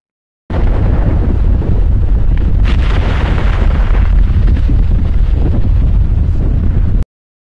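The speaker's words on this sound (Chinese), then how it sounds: "火山爆发的声音。" A loud, continuous, roaring rumble, like a volcano erupting, that never lets up and then cuts off abruptly.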